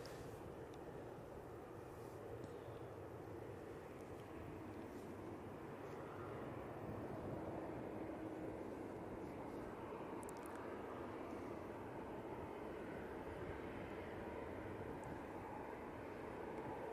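A propeller aircraft lands at Manchester Airport, its engine drone a steady distant rumble that swells slightly midway and carries on without talk.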